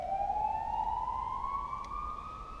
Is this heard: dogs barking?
no